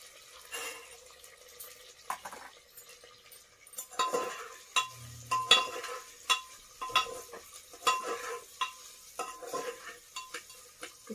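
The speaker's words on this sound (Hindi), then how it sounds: "बीच बीच से हम इसे चलाते रहेंगे।" A spoon stirs khichdi with green peas in a pan, giving close, irregular scrapes and soft clatters with short pauses between strokes and no talking.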